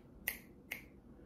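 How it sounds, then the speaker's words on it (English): Two crisp finger snaps sound close by, about half a second apart, each short and dry over a quiet background hiss. "I'm just snapping my fingers"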